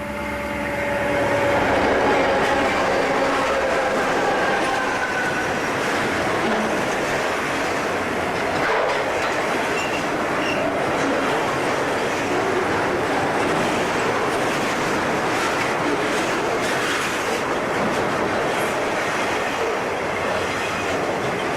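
An FEC intermodal freight train, C-103, carrying some refrigerated trailers, rumbles past steadily and loudly for the whole stretch, with rolling wheel noise, clickety-clack, and occasional faint squeals, with no voices.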